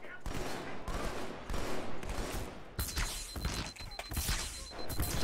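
Gunfire rattles at the player in the Halo video game, with loud, rapid bursts of automatic shots and sharp impacts coming in repeated volleys with short gaps between them.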